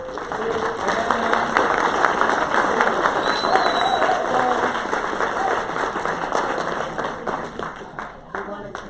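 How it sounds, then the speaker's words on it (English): Audience at a hospitality and tourism forum panel applauding the guests, a sustained round of clapping that gradually thins out, with some voices mixed in. "help me with giving them a big round of applause to all our guests."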